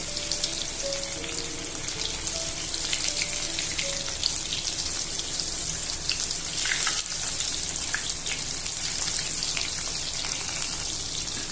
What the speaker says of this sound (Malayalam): ഒത്തിരി ക്രൗഡഡ് ആക്കണ്ട, നമുക്ക് കുറച്ച് കുറച്ചിട്ട് വറുത്തെടുക്കാം.